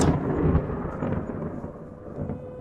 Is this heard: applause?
no